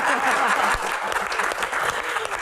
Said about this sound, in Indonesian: tepuk tangan untuk Seno